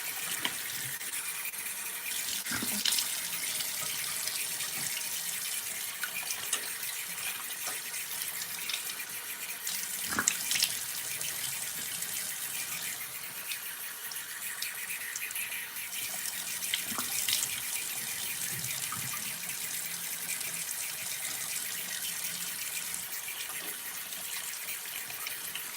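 Tap water runs steadily into a sink as a face mask is washed off, a continuous close splashing stream with occasional louder splashes from hands in the water.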